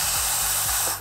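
Compressed air hisses loudly and steadily into the transmission of a Case IH 9350 Steiger tractor with a 24-speed synchro gearbox, a continuous close spray that fades out at the very end.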